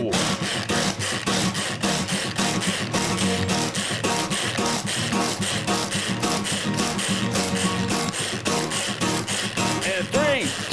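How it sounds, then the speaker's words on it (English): Pull-start grinder grinding meat for meat muffins, a loud, fast, steady rhythmic chugging and clattering that runs continuously throughout. "I have, got the pull start. So let's do some pull start music and let's grind these babies up"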